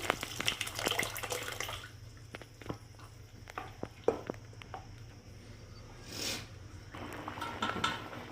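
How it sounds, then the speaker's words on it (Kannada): Cooked lentil water poured into a pot of tamarind water for sambar, a brief splashing pour with clinks of metal utensils, close and quiet over a low background hum. "ಈಗ ಬೇಯಿಸಿರುವ ಬೇಳೆ ನೀರು ಹಾಕ್ಕೊಳ್ಳಿ"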